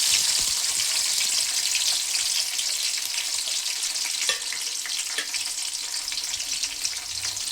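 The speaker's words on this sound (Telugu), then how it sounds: "తర్వాత ఇందులో కట్ చేసుకున్నటువంటి టమాటాలని ఇందులో వేసుకోవాలి" Chopped tomatoes frying in oil in a pan for a coriander chutney, a dense steady sizzle with bright crackling, close and loud, no talk.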